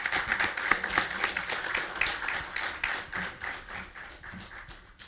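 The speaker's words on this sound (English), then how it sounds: "A round of applause for these two contestants." Applause from a college audience at an entrepreneur pitch contest, a steady patter of many hands clapping for two presenters over about five seconds, fading slightly toward the end.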